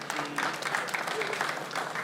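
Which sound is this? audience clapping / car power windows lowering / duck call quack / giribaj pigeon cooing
audience clapping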